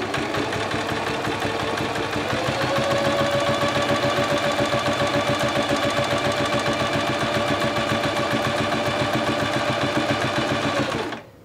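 A sewing machine sews straight down a placket on a summer dress, producing a loud, rapid, even mechanical hum with a rhythmic needle chatter that runs without pause and cuts off at the very end.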